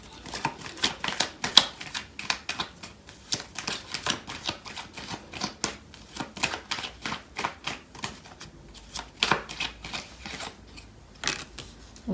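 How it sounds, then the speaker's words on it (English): Tarot cards shuffled and drawn from the deck during a love reading, a quick run of crisp, papery clicks and flicks in uneven bursts, close and fairly quiet, with no talk over them. "So I'm going to pull out some more cards to clarify these."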